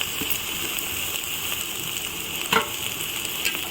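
Turmeric and rock salt stirred into simmering tomato pulusu in a pot, a continuous close hiss of sizzling with a brief louder scrape of the spoon partway through.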